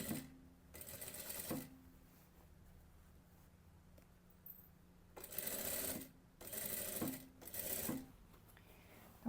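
A sewing machine stitches a dress seam in short bursts, with a brief backstitch, separated by quiet pauses and small handling clicks, close and moderately loud.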